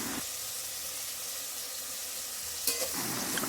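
Whole spices sizzle in hot ghee and oil, a steady close crackle of frying throughout with a brief clink of a utensil near the end; no one speaks.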